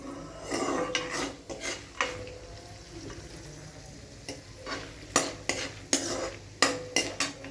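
Peanuts and chana dal frying in a pan, a low sizzle under repeated scraping and clinking strokes of a metal spoon stirring against the pan, close with no talk.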